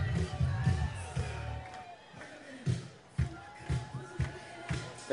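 Crowd noise in a football stadium during a timeout: diffuse cheering and murmuring with scattered whoops, heard at moderate level beneath a commentator's voice.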